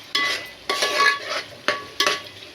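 Ginger-garlic paste ground with coriander and cumin is stirred and fried in a pan for a fish curry, four distinct scraping strokes of a spoon over a soft background sizzle, close and clear.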